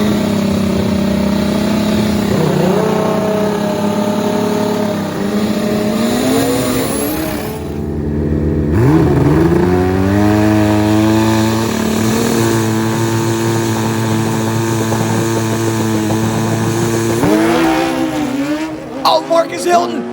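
Turbocharged nitrous drag motorcycles scream down the strip in a Real Street semifinal, high engine whine rising through gear changes, loud and sustained, with an announcer's commentary running over it.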